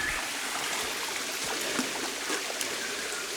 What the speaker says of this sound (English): Look at that, lovely clean water.